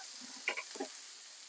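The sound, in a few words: Moroccan meatballs frying in a hot pan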